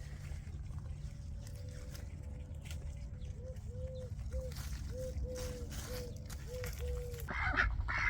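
Young ducks in a garden give a series of short nasal honking quacks in an uneven rhythm at moderate distance, over steady outdoor background noise.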